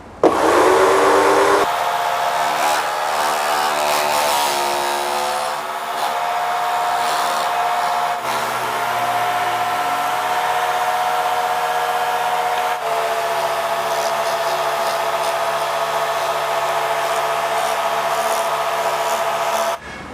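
Jigsaw cutting a curve into a table saw insert plate for a dado blade, a steady loud motor whine with buzzing blade chatter that runs continuously for the whole stretch, shifting slightly in pitch as the cut goes along.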